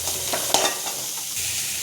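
Onion and green chilli sauté in a small amount of hot oil with mustard seeds and curry leaves, a soft steady sizzle with a brief stirring scrape, close and alone.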